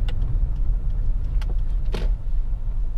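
A 2004 Lexus RX 300 3.0 SE-L SUV swinging around on a turn, with a steady low engine and road rumble, a couple of faint brief clicks and a soft swish partway through.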